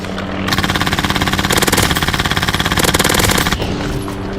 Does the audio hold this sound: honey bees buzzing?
no